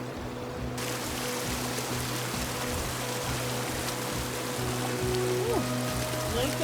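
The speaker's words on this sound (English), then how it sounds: "I guess it's more like a stream, but it's called a river." A small stream, known locally as a river, flows in Peru's Sacred Valley with a steady rushing burble that swells in after a quiet start, over a low hum, and a voice briefly sounds near the end.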